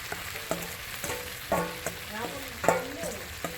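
Red curry paste sizzles and spatters as it fries in hot oil in a home kitchen, with a steady crackle broken by repeated scraping stirs, close and moderately loud, for a Thai stir-fried catfish curry.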